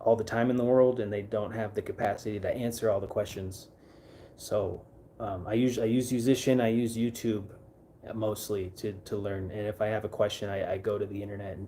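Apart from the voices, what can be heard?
None of the usual background noises is heard.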